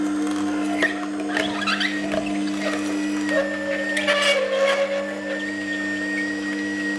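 A slow juicer presses Indian gooseberries (amla) into juice, giving a steady low motor hum with intermittent crunching, squeaking and rattling as fruit is fed in, close and continuous with no talk.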